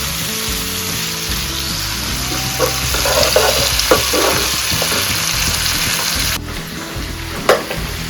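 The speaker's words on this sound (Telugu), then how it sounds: "చేపల కూర ఇది కొంచెం ఆయిల్లో వేయించుదామండి" Dried fish frying in a little oil for a dried fish and colocasia tamarind curry, a steady loud sizzle with a few brief stirring clicks and scrapes, close and continuous, no voices.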